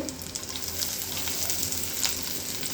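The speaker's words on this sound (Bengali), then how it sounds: "তারপরে রসুনটা হালকা করে ভেজে নেব" Garlic and green chillies sizzling in hot oil in a pan, a steady close crackle with small pops throughout.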